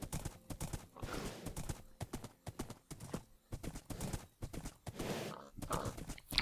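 A horse's hooves clip-clop steadily across open plains in the video game Minecraft, a brisk rhythmic walking pattern that is fairly close and carries on throughout with no talk.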